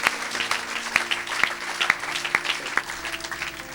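A congregation at a church service claps and cheers, steady scattered applause with sharp individual claps ringing out over a murmuring crowd, moderately loud and continuous.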